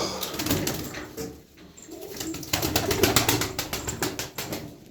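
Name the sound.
pigeons flapping and cooing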